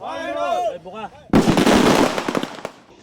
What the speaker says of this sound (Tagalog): parang mas malakas pa sa pagsabog ng isang granada yung tunog kanina